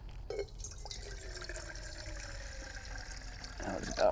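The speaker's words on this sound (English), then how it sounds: "I'm gonna add a little bit of water to this pot here and get my rice and quinoa going" Water trickles and pours into a cooking pot for rice and quinoa at an outdoor camp setup, a soft continuous liquid splashing heard up close and fairly quiet, with a brief clunk near the end.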